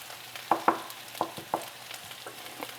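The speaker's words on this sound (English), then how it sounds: "you should stir this every now and then, and just let it fry on a medium to low temperature" Potatoes and onions frying in a pan on medium-low heat, a quiet sizzle under a few distinct scraping clicks of stirring, about half a dozen spaced taps across the short stretch.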